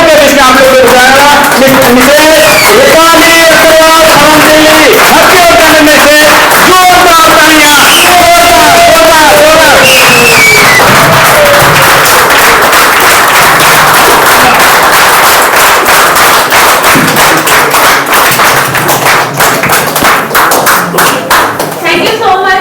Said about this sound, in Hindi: अपनी जगह खड़े होकर जोरदार तालियां, रूटिंग और सीटियों के बीच में आप लोगों को बुलाएगा